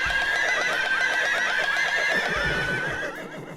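Horse neighing in the Binding of Isaac Fiend Folio video game: one long, loud whinny with a trembling, wavering pitch that holds for several seconds and fades near the end, with no talk over it.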